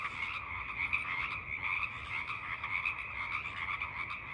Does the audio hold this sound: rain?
no